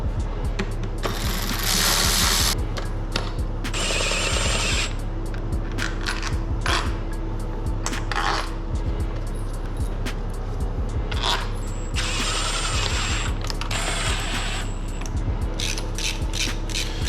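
Ratchet clicks in short bursts while bolts are tightened on new and old single-turbo parts for a BMW F80 M3, set against a steady low hum in a workshop.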